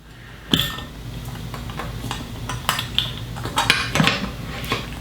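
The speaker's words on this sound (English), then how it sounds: "Got my sanitized lid. Go ahead and put it on." Sanitized metal lid fitted onto a homebrew beer keg while kegging a Samuel Adams Boston Lager clone: metallic clanks and scrapes, one sharp clank early and more clinking later, close and fairly loud, with no talk.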